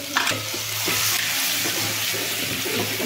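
Cumin, curry leaves, garlic and coriander paste sautéing in a hot pan, a steady close sizzle with a few soft stirring scrapes running throughout, no talking.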